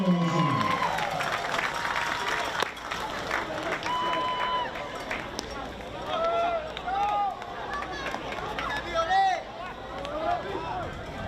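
Crowd applause at a baseball game between CNMI and Palau greets a new pitcher, a broad wash of clapping and cheering that rises and falls under a public-address voice echoing across the ballpark.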